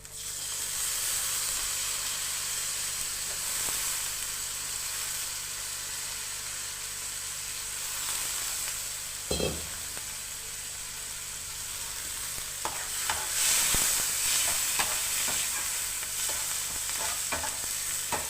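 Chicken frying in a pan with coriander and mint, stirred steadily, with a loud continuous sizzle and hiss, occasional scraping strokes and a few louder clunks of the utensil against the pan.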